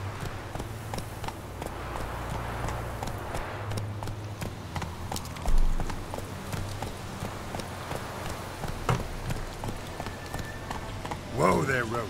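Roach, the horse from The Witcher 3: Wild Hunt, gallops in a steady clip-clop of hooves that continues throughout. A voice speaks over the hoofbeats, and game sounds sit in the background.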